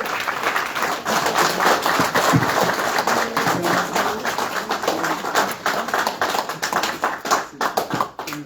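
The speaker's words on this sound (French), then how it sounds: "Applaudissons pour notre bébé." Dense, steady applause from a conference audience in Brussels welcoming a guest, loud and close throughout, with brief occasional voices underneath and slightly thinner clapping toward the end.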